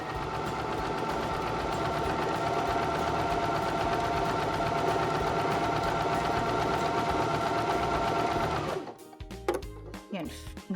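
A Baby Lock Zest sewing machine stitches with a twin needle, running in a steady, loud, close whirring hum for about eight seconds before stopping, followed by scattered clicks and handling sounds.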